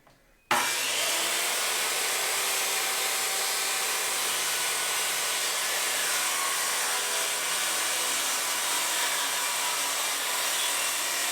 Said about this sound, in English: I'm using 3/4 inch birch plywood and cut them to perfect size here